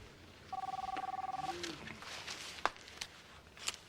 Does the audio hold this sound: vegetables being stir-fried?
no